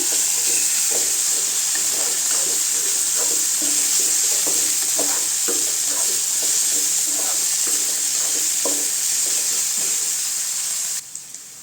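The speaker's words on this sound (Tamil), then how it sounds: "நல்லா வதக்கி விட்டுக்கலாங்க தோலை." Ridge gourd peel sautéing in a pan, a constant hissing sizzle with a regular series of soft stirring scrapes, ending in a few faint knocks.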